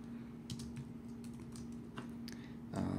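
Light, quick keystrokes on a computer keyboard in short irregular bursts, close but quiet, over a low steady electrical hum.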